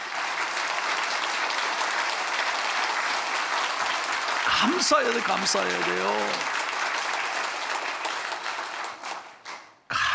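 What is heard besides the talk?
congregation applause of thanks in church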